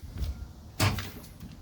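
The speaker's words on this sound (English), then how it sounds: "Friction door." A friction-held exterior door on a 2020 Rockwood Geo Pro G16BH travel trailer swings shut with one short, fairly firm thump near the middle, close by and alone against quiet outdoor background.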